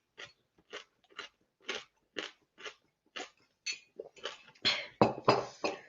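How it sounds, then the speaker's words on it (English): Crunchy salted snacks are bitten and chewed near the mic, a run of sharp crunches at first spaced apart, then coming quicker, louder and more tightly bunched toward the end. "these actually just melt when you start crunching"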